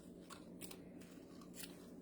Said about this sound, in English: First, get your scissors. Cut off what you want.